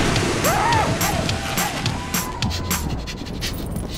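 A dog pants near the microphone with a few high whimpers, while faint voices and ambient outdoor noise sit behind it.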